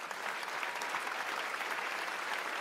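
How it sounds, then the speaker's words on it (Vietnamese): A studio audience at a televised dance competition applauds a dance couple after their final routine, a dense, steady wave of clapping with a little crowd noise, loud and continuous throughout. "chúng ta cùng dành một tràng pháo tay tặng cho cặp đôi Áp Lực"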